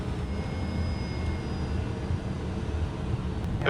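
A steady, broad engine roar from a 2008 Cessna Citation CJ1+ business jet at takeoff power, continuous and fairly loud with a faint high whine on top and no talking.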